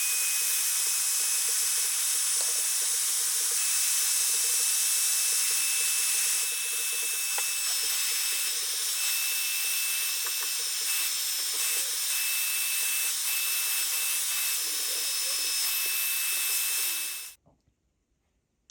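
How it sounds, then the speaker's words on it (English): A heat gun used to strip poly finish from a Fender Jazz Bass body blows a loud, steady hissing roar for about seventeen seconds before switching off into near silence. "I'm going to stay away from that area with the heat gun and use it for up here"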